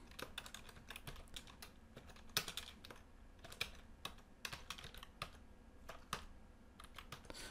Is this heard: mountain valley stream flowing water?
no